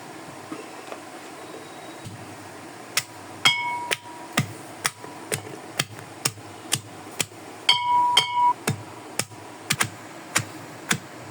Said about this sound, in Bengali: আর এখানে রয়েছে হাম্বুল দিস্তা, এটাই সেচবো।